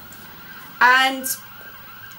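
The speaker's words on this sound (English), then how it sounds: "there's an ambulance going by" An ambulance siren passes by, a brief loud wail that rises and fades within about a second, heard alone in a quiet room.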